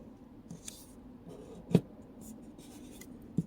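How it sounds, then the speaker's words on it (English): Soft paper rustles and a couple of sharp creasing taps as a sheet is folded into a paper clip cover, close and quiet with no talking. "I'm going to take one side and fold it up."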